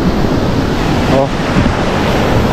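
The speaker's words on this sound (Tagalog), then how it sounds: "Medyo malakas pa rin yung alon, no." Strong waves break and wash steadily onto a Philippine shoreline littered with gathered driftwood, a continuous loud roar of surf mixed with gusts of wind buffeting the microphone.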